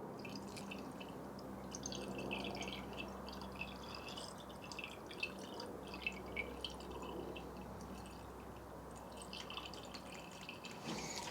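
Coolant is poured into a Suzuki RGV motorcycle engine until it overflows, heard as a faint, steady trickle with occasional soft drips in a quiet space.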